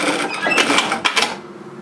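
A Siruba industrial lockstitch sewing machine sewing forward and then running an automatic back tack, giving a loud, close, rapid whir in brief bursts before it stops.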